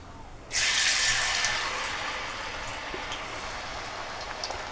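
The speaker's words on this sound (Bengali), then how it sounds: "এইভাবে ভেজে নিব।" Cabbage papad and pakora drop into hot oil and fry with a sudden bright hiss. The sizzle stays steady and close, easing slightly over several seconds, with no voices.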